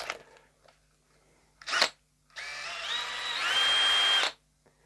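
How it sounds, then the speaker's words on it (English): An electric drill with a metal drill bit bores into a Shark Fin V guitar body: two short whirring bursts, then a longer sustained run that rises in pitch as it cuts, with quiet gaps between. "but I'll do it with a metal drill bit to finalize the depth."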